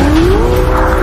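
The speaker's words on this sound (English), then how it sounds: "we've got a bit of a performance benchmark, a Ferrari 488" A Ferrari 488 tears through a fast lap on a desert track, its engine roaring loud and close with a rising pitch as the tyres squeal and skid.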